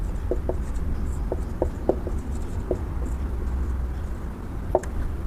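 A solution is handwritten, with a pen or chalk tapping and scratching in short, irregular strokes over a steady background hum; the strokes sound close and moderately faint.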